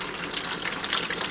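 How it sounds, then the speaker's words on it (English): Water poured through potted Paphiopedilum orchids to flush the growing medium, a steady, close broadband splashing and trickling that runs continuously for the whole stretch with no voices. "Bit of water, pour it through, making sure I don't wet the leaves. Give it a good flushing."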